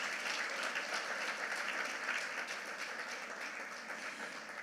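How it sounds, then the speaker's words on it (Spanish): Steady applause from a church congregation after a call to praise the Lord, dense and even throughout, with no voices over it. "Denle un fuerte aplauso al Señor"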